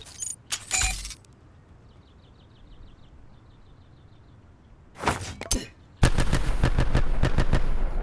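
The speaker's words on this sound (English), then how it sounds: "The more you cook the grenade, the more times it goes bang." In the video game Black Ops 4, a cooked flash grenade goes off as a rapid, loud string of repeated bangs, preceded earlier by metallic clicks and a few softer pops, with no talking.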